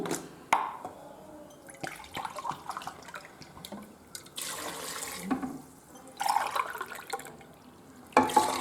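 Water is poured from a cup into rice in a cooking pot in several separate splashing bursts, with quieter dripping and rattling between pours.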